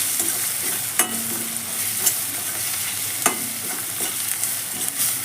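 Onions and turmeric frying in a pan while being stirred, a loud, steady close sizzle with a few distinct clinks of a utensil against the pan at intervals.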